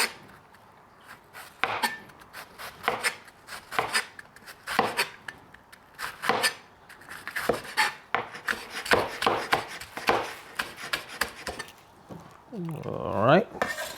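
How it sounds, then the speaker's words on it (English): Thin onion slices cut with a knife on a cutting board for beef chow fan, heard as a steady run of crisp, close chopping taps with short pauses between strokes, some of them quick and clustered. "So you want thin slices of onions."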